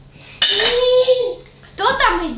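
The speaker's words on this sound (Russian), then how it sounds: "Разбираю посудомойку, ну, она практически полупустая, но все же разобрать нужно и загрузить посуду" Dishes and cutlery clatter as a half-empty home dishwasher is unloaded, two bursts of clinking china and metal close by, with a voice chiming in over them.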